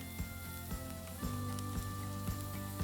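Pheasant yakitori sizzles on a grill while being basted with ginger juice, a steady close frying hiss with a few soft regular clicks or taps, no talking.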